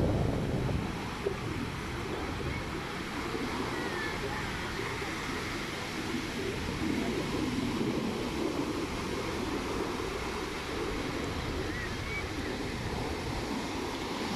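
Sea waves wash onto Playa Chapetón beach in Chiquimulilla, Santa Rosa, on a sunny day, a constant broad rushing surf roar mixed with wind buffeting the microphone.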